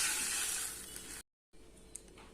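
Water poured into a hot pan of roasted vermicelli bursts into a loud, bright sizzling hiss that fades slightly, cuts off briefly, then returns as a quieter steady simmering hiss.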